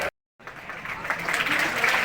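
Children clap at a school Independence Day cultural event, a brief cut of silence, then a sustained burst of applause that swells and continues steadily.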